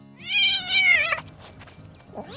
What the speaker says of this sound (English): One of the cats sees him.